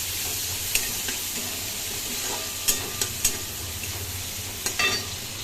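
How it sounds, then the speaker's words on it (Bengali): Onion frying with black cumin in a little oil in a kadai, giving a continuous, even sizzle with occasional sharp spatters and scrapes of a stirring spoon, close and without talk. "একটু ভাজা ভাজা হবে"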